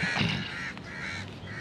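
Crows cawing outdoors near a street and open ground by buildings, a few harsh calls that overlap and repeat, fairly close and clear.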